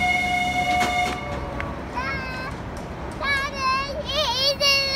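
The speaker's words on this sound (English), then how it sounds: "There's the train. And there it goes." A train passes at a seaside town, horn-like tones and rolling rail noise rising and fading while children and an adult talk and call out over it.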